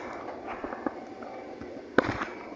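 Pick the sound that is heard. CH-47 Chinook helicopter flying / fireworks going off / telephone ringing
fireworks going off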